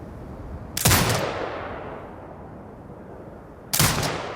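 An automated turret in the video game Sniper Ghost Warrior Contracts 2 fires at hostiles, letting off two loud, sharp bursts about three seconds apart, each trailing into a fading echo.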